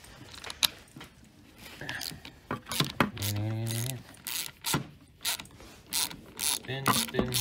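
Quarter-inch ratchet with a 10 mm socket clicking on bolts of a Ski-Doo snowmobile adjustable brake lever, close and in quick bursts, with a longer whirring spin midway and some metal clinks.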